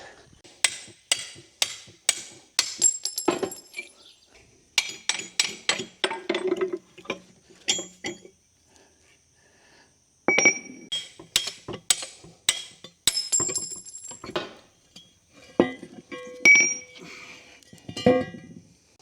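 Sharp metallic hammer blows knock pins out of an excavator quick coupler, ringing clanks and taps in irregular bursts with brief pauses, close and loud with no talk.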